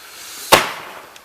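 A single sharp firework bang at a New Year's Day backyard display, loud and close, with a short fading tail and a faint pop afterward.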